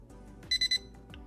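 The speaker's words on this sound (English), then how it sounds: "the rod tip alarm is on, and the rod tip alarm distance is set to 10 feet" PENN Fathom Electric reel's rod tip alarm sounding three quick, clean electronic beeps in an even rhythm, close and clear against a quiet background.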